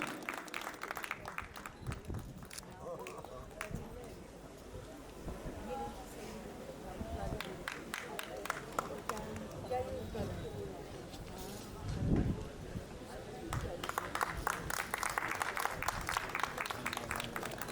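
An audience gives a round of applause to panelists and guests at a cinema and literature discussion session, sustained clapping with sharp individual claps throughout, swelling near the end, amid some crowd murmur.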